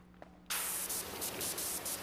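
A pressure washer in the video game PowerWash Simulator 2 bursts on after a brief quiet hum and keeps up a loud, steady hissing spray to the end, with slight surges.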